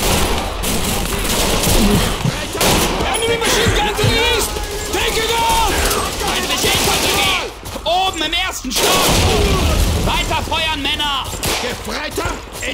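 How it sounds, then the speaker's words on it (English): Gunfire from an enemy machine gun in the World War II shooter Call of Duty 2, played on veteran difficulty, crackles in dense, continuous bursts with battlefield noise, while voices talk over the shooting throughout. "Enemy machine gun to the east! Take it out!"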